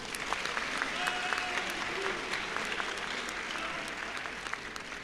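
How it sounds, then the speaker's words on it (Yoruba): A crowd gathered before the Oba of Ogbomoso applauds, a soft, continuous wash of many clapping hands heard from some distance, with a faint murmur of voices underneath. "Ẹ tiẹ̀ bá mi pàtẹ́wọ́ fọ́ba òkè."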